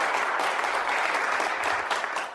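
A classroom of students gives a steady round of applause, dense continuous clapping that holds evenly for the whole stretch and tapers slightly at the end, with no talk over it.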